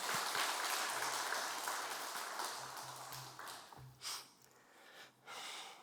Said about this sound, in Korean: 큰 축복과 격려의 박수 부탁하겠습니다.